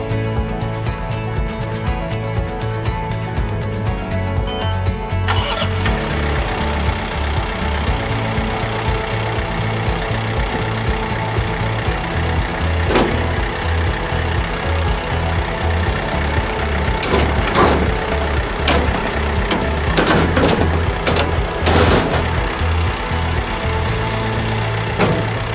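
A tractor engine idles and labors steadily while lifting a J Bar bush hog with its forks, a continuous rumbling drone with shifting load, some clanks and rattles near the end.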